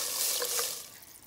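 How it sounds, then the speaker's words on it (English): Water from a tap splashes into a pot of chopped carrots for ginger carrot soup, a short close hissing pour that fades toward the end. "we're gonna add some water to soften up the carrots a bit"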